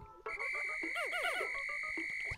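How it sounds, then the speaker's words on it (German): Whistle calling Pikmin in the video game Pikmin 4: a sustained, bright whistle tone holds for about two seconds while a rapid series of rising chirps and squeaky answering calls plays over it. "Ist halt einfach B gedrückt, um sie mit einer Pfeife zu mir zu rufen."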